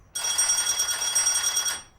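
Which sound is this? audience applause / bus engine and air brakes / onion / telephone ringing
telephone ringing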